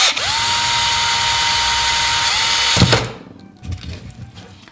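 A power drill bores a hole in a PVC pipe being made into an Irish whistle, a steady loud whine for about three seconds that stops abruptly, followed by faint handling noises.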